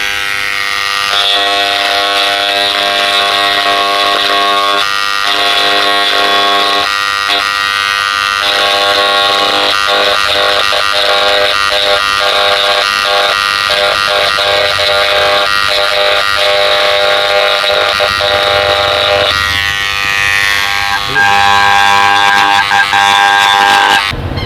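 An electric engraving pen writes on metal utensils such as brass, steel or aluminium with a loud, continuous close buzz that stutters into rapid pulses as it marks, and no speech is heard.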